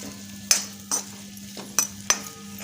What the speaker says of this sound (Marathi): पहिला आपण कांदा भाजून घेऊया तेलात